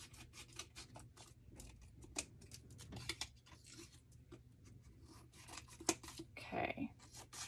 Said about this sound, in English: So I'm just gonna take my scissors and just cut away the excess.